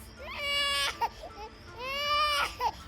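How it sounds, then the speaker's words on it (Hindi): A baby girl crying in the night as a horror-story sound effect, two drawn-out wailing cries with short whimpering catches between them. "अचानक उनकी आंख बच्ची की रोने की आवाज़ों से खुल गई।"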